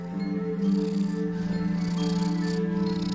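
A cat purrs steadily and close up, a low, even, rumbling drone with a faint pulsing rhythm, heard alone and without pause.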